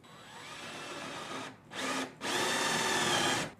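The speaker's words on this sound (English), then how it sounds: "Then I'm gonna drill a hole right here." A power drill whines in short bursts while drilling a hole in a board, three runs of steady high-pitched spinning with brief pauses between, close and fairly loud.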